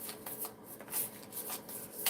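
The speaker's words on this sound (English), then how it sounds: "I'm going to keep shuffling" Tarot cards are shuffled in quick, papery riffles and slides, close and soft, repeating in a brisk rhythm with no talk.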